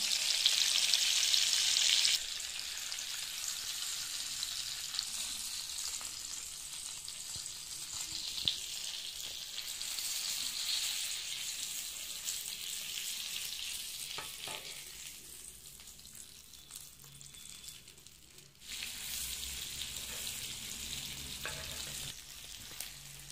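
Bangda mackerel fish frying crisp in a pan, a steady close sizzle that dips quieter for a few seconds near the end before surging back to full strength, with no voices over it.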